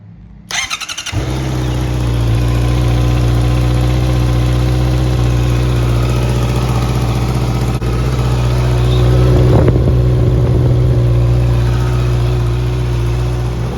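Honda CB650R motorcycle fitted with an Akrapovic exhaust cranks and fires up, then settles into a steady, loud, close idle with a brief blip of revs near the end; no talking.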